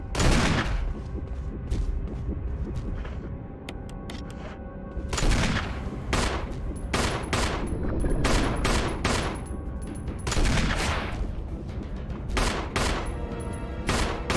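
Dense volleys of gunfire from a Resident Evil randomizer game, rapid overlapping shots and booming bursts filling the whole stretch with only brief lulls, loud and close throughout with no talking.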